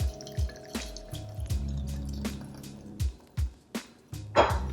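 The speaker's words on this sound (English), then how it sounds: "I'm going to pour the ginger brew tonic into the teapot now, and that will strain out the big pieces of the ginger that I used to make this brew" Homemade ginger brew tonic poured through a strainer into a teapot, heard as a run of close liquid splashes and drips in uneven bursts, with no talk.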